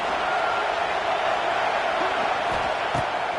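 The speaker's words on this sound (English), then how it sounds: "this crowd trying to help keep them there" Steady, broad stadium crowd noise from a College Football 26 game between South Carolina and Tennessee fills the scene as a continuous roar, loud and constant, with faint voices underneath.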